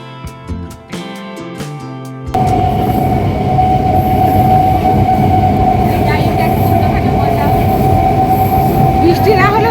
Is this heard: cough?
no